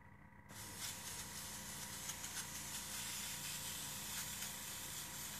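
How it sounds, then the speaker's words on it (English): Paint hissing steadily from a spray tool during an art class, a continuous close airy rush running with little change from start to finish after a brief quiet opening. "this is pretty smooth the way it's spraying"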